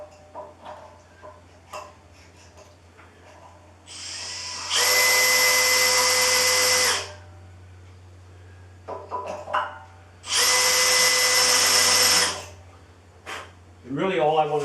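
A spotting drill bites into the top of steel box tubing in two steady, loud bursts of a couple of seconds each, with quieter workshop handling noise and a constant low hum between them.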